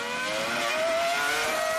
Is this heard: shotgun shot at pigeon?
no